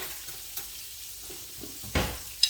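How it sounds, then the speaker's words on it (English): Chopped pepper sautéing in a pan for cube steak gravy, a faint low sizzle broken by a few sharp stirring scrapes and clacks near the end. "And I'm going to add my pepper. Gonna let that saute for a little bit"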